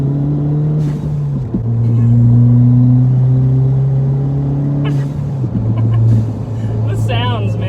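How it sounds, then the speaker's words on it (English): A big-turbo Ford Fiesta ST fitted with a Boomba blow-off valve drones steadily from inside the cabin, engine pitch shifting between gears with turbo whoosh and faint valve chatter, while people talk over it. "Just the turbo noises"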